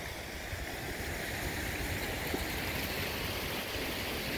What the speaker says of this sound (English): The water washes right over top.